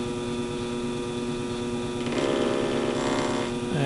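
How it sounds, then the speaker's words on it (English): A workshop machine running at 900 to 1000 RPM while a radiator part for a model petrol engine is machined, giving a steady, loud droning hum that thickens and roughens midway as if a cut begins. "I have the machine running at 900 and 1000 RPM"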